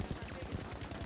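Rapid automatic gunfire in a Battlefield V multiplayer match comes as a quick, evenly spaced string of muffled thuds, faint and distant.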